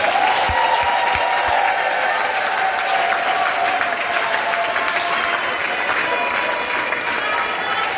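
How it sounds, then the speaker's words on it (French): Assembly audience at a women's closing ceremony applauding loudly, continuous dense clapping with some cheering and faint voices mixed in, steady throughout. "nous demandons à l'Assemblée d'applaudir pour ces mots"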